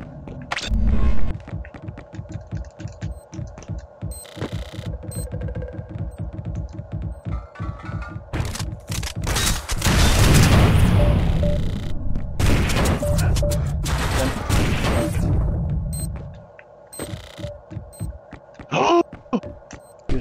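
Gunfire and a grenade blast in an online shooter game: rapid shots throughout, then a loud, sustained explosion roar in the middle that fades out, with keyboard clatter under it.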